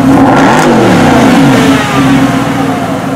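A Mercedes SLS AMG with a 560-horsepower V8 and dual-clutch automatic revs loudly up and back down close by, its deep rising and falling engine note filling the whole stretch with no talk over it.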